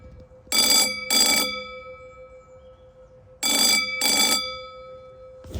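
Old mechanical telephone bell at Avoncroft Museum ringing in two bursts of paired rings, each a bright metallic jangle, separated by a pause, close and loud with no talking.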